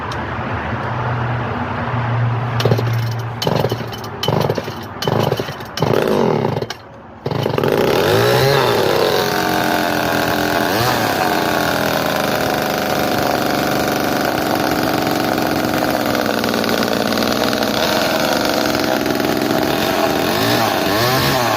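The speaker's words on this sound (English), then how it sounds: "Let's see if I can get her to pull over for you. Cold start." A cold early 245A engine, low on fuel, cranks in several short bursts, then catches and settles into a steady, loud running drone that continues to the end without any talk.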